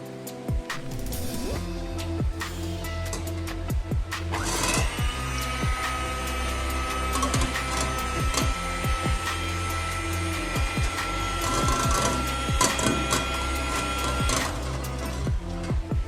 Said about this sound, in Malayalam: നമുക്ക് നന്നായിട്ട് ബീറ്റ് ചെയ്യണം.